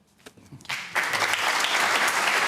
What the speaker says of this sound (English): the audience claps him for that